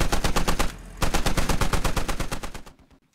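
Rapid, steady bursts from a Humvee-mounted machine gun in the video game Squad, loud and close, laying down cover fire before cutting off and fading out.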